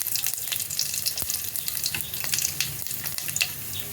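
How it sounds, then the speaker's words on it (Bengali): Fennel seeds, two whole dried chillies and a bay leaf sizzle in hot oil, a bright close crackle with scattered sharp pops and spits over a steady frying hiss. "এই তেলটা গরম হয়ে গেছে, এর মধ্যে দেবো এই মৌরিগুলো ফোড়ন দেবো"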